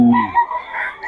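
Chickens at a market: a short, loud rooster crow close by, followed by a few quieter clucks.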